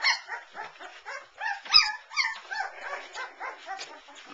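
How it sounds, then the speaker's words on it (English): Several three-week-old puppies yip, whimper, growl and give small high barks in quick bursts, close by and fairly steady throughout, with no talking. "Barking, growling."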